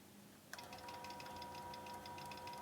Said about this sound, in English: While it's stitching in the ditch, you can really go slow and make sure that it's right in the ditch.